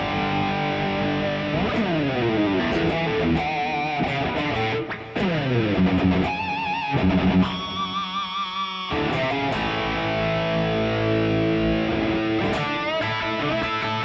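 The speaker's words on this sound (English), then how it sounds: "So this is my distortion pedal." Electric guitar played through a distortion pedal, loud and close, with gritty sustained chords and sliding notes, brief pauses, and no talking over it.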